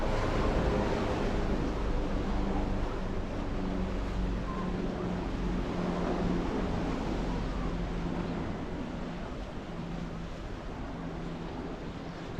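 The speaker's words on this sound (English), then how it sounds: "Nice to see the waves smashing against the rocks" Broad, rushing surf noise of waves breaking and splashing against rocks along the Portixol promenade, steady and loud with wind rumble, easing slightly toward the end.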